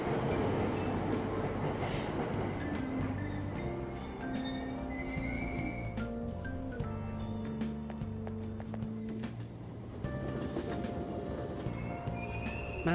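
Inside a train during a ride in the video game Persona 5 Royal, a steady rumbling carriage drone with tonal hums and a sustained squeal runs continuously, with faint clicks scattered through and no talking.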